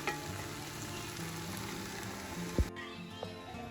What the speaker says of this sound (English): So we're gonna let this just cook down for about 5 minutes on low heat